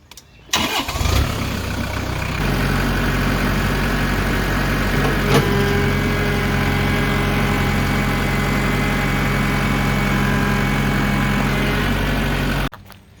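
Farmall Super M tractor engine turning over and catching, then running at a steady, loud idle close by for about ten seconds before cutting off abruptly.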